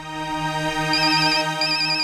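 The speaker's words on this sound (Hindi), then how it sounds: "ऑफिस से फोन है, मुझे जाना होगा।" A phone ringtone plays a steady electronic melody of sustained tones with a repeating high chiming pattern, loud and close, with no talking over it.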